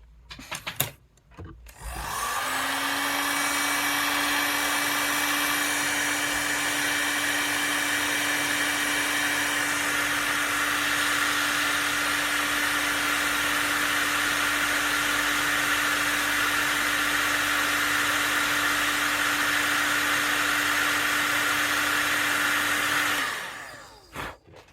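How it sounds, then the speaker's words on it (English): A heat gun blows hot air over a giant custom painted die, starting abruptly and roaring at a steady, loud level for about twenty seconds before cutting off, with no voices. "we're going to have another quick blast with the heat gun"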